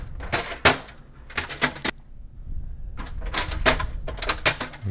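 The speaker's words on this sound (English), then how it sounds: "So remove all your shelves." Plastic shelves and bins are pulled out of a GE refrigerator that is not cooling, with a string of close clacks, knocks and scrapes in uneven bursts, a short pause, then more rattling handling.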